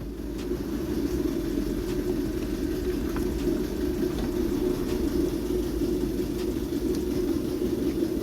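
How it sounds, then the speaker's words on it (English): A steady, low whooshing hum of a heater runs continuously and evenly throughout in a cold garage during a Lexus IS 220d alternator replacement, with no talking. "I've got the heater going because it's really cold."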